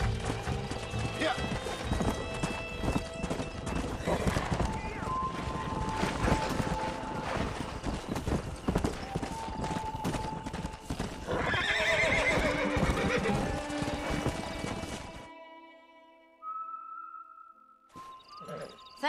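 In the Red Dead Redemption video game, a stallion whinnies and its hooves clip-clop amid wind and game ambience, with people talking over it; the sound drops out near the end, leaving faint tones.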